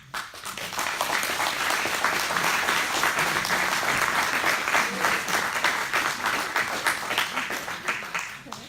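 An audience gives a sustained round of applause after a speech at a local Amber Valley Independents gathering, dense clapping rising quickly and continuing steadily for several seconds before thinning slightly at the end.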